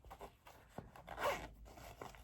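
A zipper on a red Japanese-style fabric knitting bag pouch is pulled open in a few short quiet rasps, with a longer louder zip in the middle, close by and without speech.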